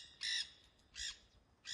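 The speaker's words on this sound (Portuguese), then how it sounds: "As araras já despertaram, a vida segue." Macaws calling in the Pantanal wetland of Brazil on a hot, dry morning: three loud, harsh squawks spaced about a second apart, each alone against quiet background.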